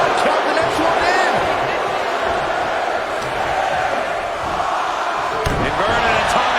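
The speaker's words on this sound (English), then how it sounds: "Listen to this crowd." A wrestling arena crowd at the Royal Rumble roars steadily throughout, loud and continuous, with scattered whoops, a few sharp slams and bursts of cheering rising over the dense noise.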